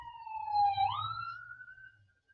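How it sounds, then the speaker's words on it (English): Emergency vehicle sirens wail past at a distance in a quick rising and falling sweep, fading out toward the end, with no talking over them. "There's sirens going by."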